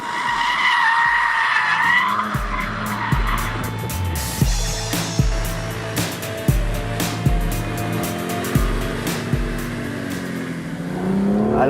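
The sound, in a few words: BMW M2 CS manual rear-drive car on wet circuit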